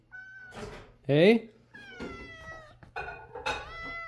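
A pet cat meows repeatedly indoors, several rising and falling cries including one loud, strained yowl, with a person speaking briefly between them.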